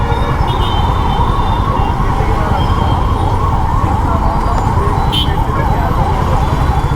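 An ambulance siren wails steadily over dense, loud Hyderabad traffic rumble, continuous throughout.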